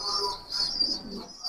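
A Teddy pigeon held in the hand coos softly and continuously up close, a short low murmuring call with a faint higher tone running over it.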